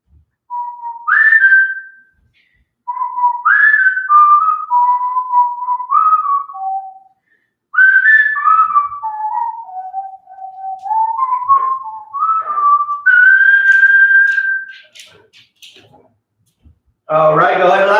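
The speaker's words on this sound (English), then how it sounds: "Whistling. I love whistling." A person whistles a wandering melody alone in a home workout space, in clear phrases broken by short pauses, before a brief burst of voice at the very end.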